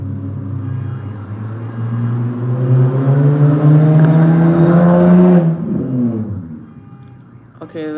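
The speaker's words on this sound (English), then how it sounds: "that car is loud too" A loud car engine passes close by, its low rumble swelling for several seconds and then fading away.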